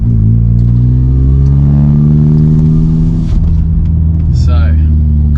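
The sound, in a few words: Audi S1 engine revving after warming up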